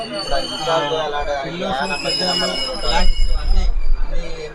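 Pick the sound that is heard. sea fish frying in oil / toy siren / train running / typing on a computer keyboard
train running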